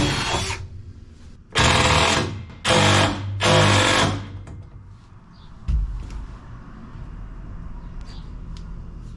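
A power drill drives a screw into a box truck wall: one short whir, then two longer loud bursts close by, followed by a solid knock and quieter handling noise.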